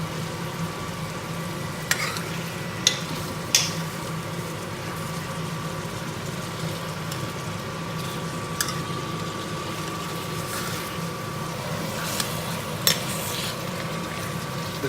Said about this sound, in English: The chimney noise is killing the bit of a sizzling noise which I'm getting here.